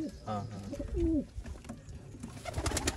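Pigeons coo in a loft of old-line birds kept for sale in Bangalore, a few soft throaty calls rising near the start amid light background noise and faint voices.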